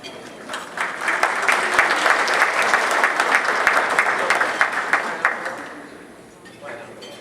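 Sustained applause from a luncheon audience honoring sponsors at a Labor Day Classic event, dense and steady for several seconds before tapering off near the end, with faint voices in the background.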